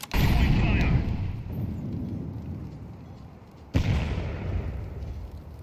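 An incendiary grenade goes off in a spy video game, with a loud burst of fire and blast noise near the start that dies down. A second sharp burst follows a few seconds later, and a voice talks briefly.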